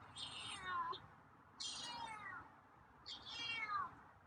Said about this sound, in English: Meows are louder today.